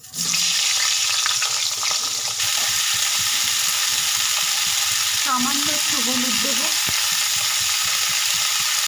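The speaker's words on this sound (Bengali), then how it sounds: "এই রকম মিডিয়াম সাইজের ফুলকপিগুলোকে কেটেছি এবার আমি ভেজে নেব" Medium-sized cauliflower pieces fry in oil with a loud, close, continuous sizzle, while someone speaks briefly over the crackling.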